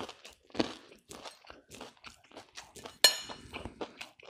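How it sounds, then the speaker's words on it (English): Crunchy air-fried fish and chips being bitten and chewed close up: a series of quiet, crisp crunches with one sharper crack near the end. "because I'm sure you'd love to hear how crunchy this fish is"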